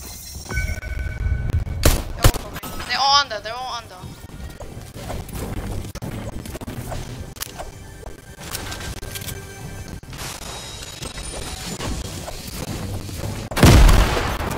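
Grenade explosions and gunfire in a video game, scattered bangs and crashes over a busy continuous game din, with a strong blast near the end.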